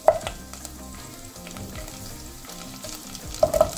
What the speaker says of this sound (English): So while it's cooking slowly, the onions will be cooked